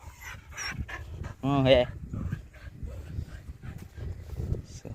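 A dog gives a brief burst of panting and a short, strained vocal sound, close by, amid continuous conversation between people talking outdoors.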